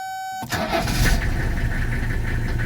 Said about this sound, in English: let me crank up the car.